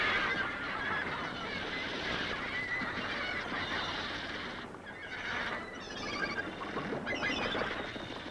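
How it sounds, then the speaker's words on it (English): A dense chorus of thousands of wild seabirds nesting on cliffs, overlapping honks and squawks forming a constant distant din, with no voices. "Wild birds by the thousands."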